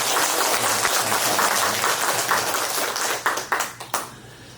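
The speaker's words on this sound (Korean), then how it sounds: "우리 한 번 더 박수하겠습니다." A church congregation applauding during a Sunday service, a dense burst of many hands clapping that thins into a few scattered, fading claps at the end.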